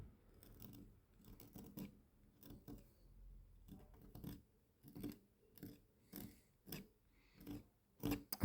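A blade scrapes along the edge of a pencil drawing of an eye, a series of short, soft, close rasping strokes in an uneven rhythm, quiet and with no talk.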